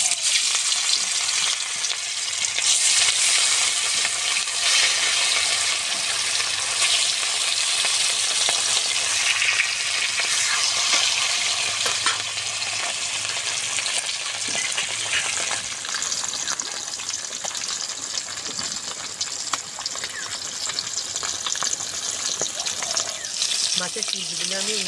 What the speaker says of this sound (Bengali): তেলটা গরম হয়ে গেছে, মাছের পিসগুলো দিয়ে দেব।